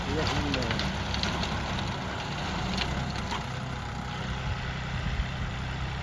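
A John Deere 5210 tractor engine idles with a steady, close, low diesel rumble and broadband chug that holds even throughout, with voices faintly present over it.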